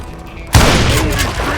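In the Western video game Call of Juarez: Gunslinger, a shotgun goes off as one sudden loud boom, followed by a rumbling tail.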